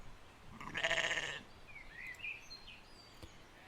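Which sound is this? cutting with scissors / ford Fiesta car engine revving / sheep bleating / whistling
sheep bleating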